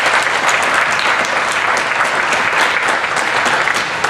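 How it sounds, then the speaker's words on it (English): Dense, sustained applause fills the room at a presidential campaign event in Cedar Rapids, Iowa. The crowd claps loudly and steadily for the whole stretch, with no speech over it. "Let's give Ralph a round of applause for his hospitality and for his leadership."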